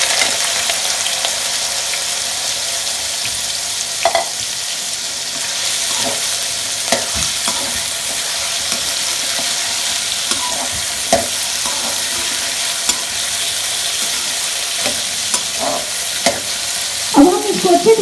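Taro root (arvi) pieces frying in hot oil in a home kitchen pan for arvi gosht, a steady close sizzle throughout with occasional stirring clinks and scrapes.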